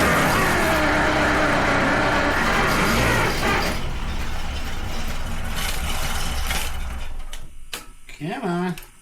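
A car engine revs in repeated surges over steady mechanical noise, followed by brief voices near the end; the car is being worked on after cheap replacement parts failed.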